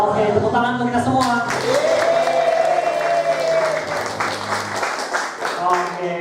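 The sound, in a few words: audience applause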